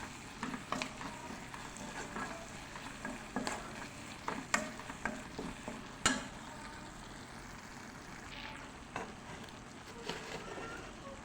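A pickle mixture sizzles in a pan as curry leaves are stirred in, soft continuous frying hiss broken by faint scraping and clicking strokes of the spoon, quiet and close.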